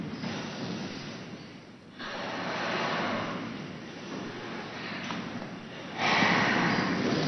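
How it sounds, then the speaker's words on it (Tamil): Long, deep yoga breaths taken close to the microphone, each slow inhale and exhale a broad airy rush with short pauses between. "கையை போட்டு காலை சேர்த்து கொண்டு நீண்ட நெடுமூச்சு வாங்கிக் கொள்ளுங்கள்"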